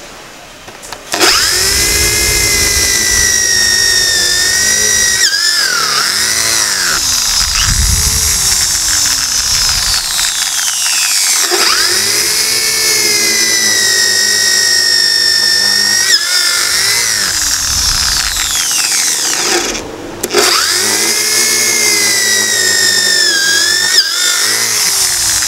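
An NRT PRO 450 HD 10 mm electric drill runs in loud, high, whining bursts close by. Its pitch rises and falls as it spins up and winds down, with short pauses between runs.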